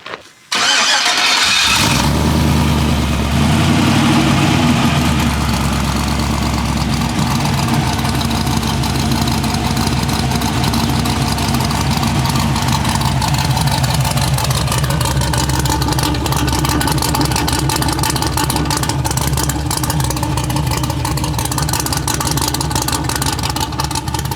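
A 1973 Dodge D100 pickup truck engine with a stainless exhaust cranks and fires, then settles into a loud, steady, rumbling idle that runs on without pause, close by.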